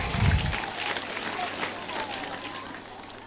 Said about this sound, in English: Can we clap for ourselves?